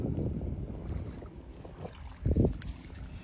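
A boat moves on water near Shaheed Dweep in the Andaman Islands, with a low rumbling wash and wind noise close to the microphone and a brief louder splash or knock near the end.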